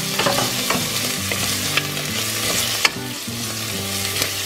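Garlic fries in a pan with a close, busy, continuous sizzle and crackle, and a few scraping stirs and light clicks rise above it. No one speaks.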